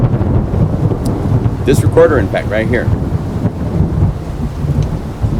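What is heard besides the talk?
thunder and heavy rain near Arenal volcano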